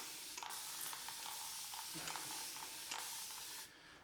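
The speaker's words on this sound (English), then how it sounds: "I'm just going to spray this on." Pre-shave being sprayed onto the face before a straight-razor shave with a JJ Shorty 5/8 razor: close, hissing spray bursts over a steady soft background, several short puffs, then the hiss drops away at the end.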